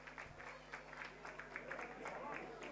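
Wedding guests in an event hall break into applause, a faint, continuous patter of many hands clapping, with a steady hum beneath and talk mixed in.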